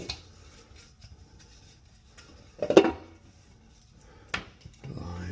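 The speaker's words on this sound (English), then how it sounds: "Now put this lid back on." A lid is set back onto a pool filter housing with a few clicks and knocks, one sharper plastic clack near the middle and another a bit later, all close by and fairly quiet.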